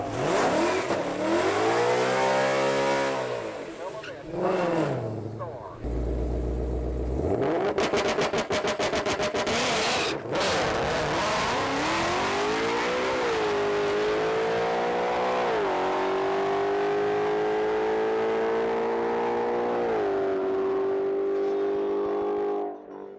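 Drag race car revving loudly at close range, its engine note rising and falling, then a sharp burst of rapid popping before a long, sustained high-revving run that stays loud throughout.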